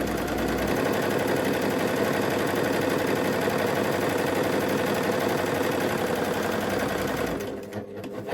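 An overlocker serger runs steadily while stitching the edge of a circular Christmas napkin, a fast continuous mechanical whir heard close and loud, then slowing and easing off near the end.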